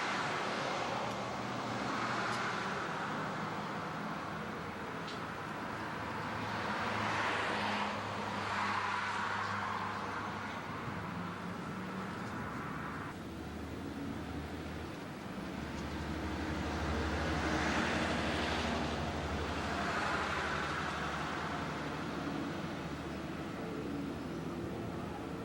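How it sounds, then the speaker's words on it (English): Aircraft passing somewhere overhead: a faint, distant broadband roar that swells and fades in slow waves, with no talk. "Seem to have an aircraft over there"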